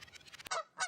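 Canada geese honking in Metro Vancouver, a short burst of calls followed by two loud, close honks standing alone with no voices.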